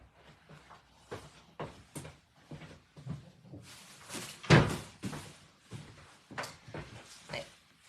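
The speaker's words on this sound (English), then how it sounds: "I'm going to close the door." A room door is pushed shut at a home craft table, giving one firm thud near the middle of several seconds of light rustling and handling noises, with no speech.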